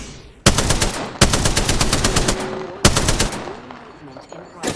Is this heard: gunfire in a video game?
yes